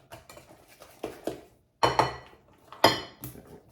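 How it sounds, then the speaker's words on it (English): A whisk clatters against a bowl while breaking up date sugar lumps, in short bursts of fast scraping and clinking separated by brief pauses, close and fairly loud, with no voices. "I'm going to switch to a whisk real quick and make sure I get all of those out"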